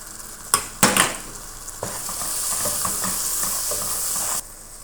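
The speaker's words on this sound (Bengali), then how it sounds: "এখন দেব ফাঁকি মশলা, হলুদের ফাঁকি, জিরার ফাঁকি, ধনিয়ার ফাঁকি ও স্বাদ মতো লবণ" A few clinks of a utensil against the pan, then a steady sizzling hiss as food fries with turmeric, cumin, coriander powder and salt, broken by stirring scrapes before the sizzle cuts off.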